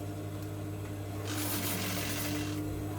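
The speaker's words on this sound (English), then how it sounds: "I'm sewing it in." A sewing machine stitches a corset gown, a steady close mechanical whir that swells into a brighter, faster run of stitching midway before easing back, with no talking.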